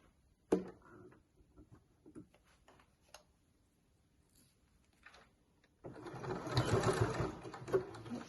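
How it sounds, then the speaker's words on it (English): A sewing machine stitches along the folded edge of a drawstring bag, starting with a few faint clicks and taps before a loud, steady whirring run sets in for the last couple of seconds, close by and with no talking. "I'm just going to go by just sewing along this folded edge here"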